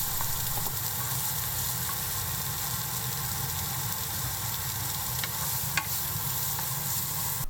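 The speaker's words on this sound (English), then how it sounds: "saute the onion on medium-low heat until translucent" Onion sautéing in oil in a frying pan over medium-low heat for Japanese omurice, a steady close sizzle and crackle that holds evenly throughout with a few brief sharper pops, no voices.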